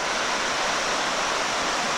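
A creek below a old stone trolley-trail bridge rushes steadily, a broad, even wash of flowing water with no breaks, fairly loud and close.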